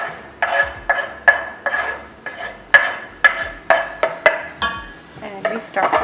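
A chopped medium-sized onion goes into heated olive oil in a pot, marked by a close, steady run of about a dozen sharp metallic knocks and clinks of a utensil against the pot.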